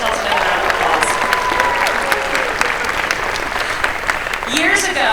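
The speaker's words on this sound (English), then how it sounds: "Give yourselves another round of applause." A large audience at the Destination Imagination event applauds loudly and continuously, dense clapping with some voices and cheering mixed in.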